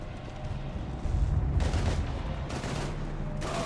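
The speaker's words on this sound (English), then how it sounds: "we're taking heavy fire" Sustained gunfire in the video game Mass Effect 3 during a combat scene, moderately loud with repeated bursts over a steady rumbling background.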